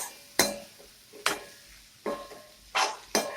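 A spoon scraping and stirring potatoes through spice paste in a pan for Gujarati puri bhaji: five distinct, sharp scraping strokes at irregular intervals, close and clear, with a faint sizzle between them.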